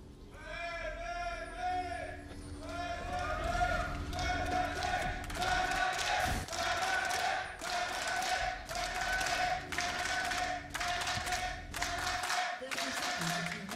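Fnatic fans at a League of Legends match in the LEC Spring 2019 quarter finals, a large arena crowd chanting and clapping in a steady rhythmic beat, loud, with a commentator talking over it.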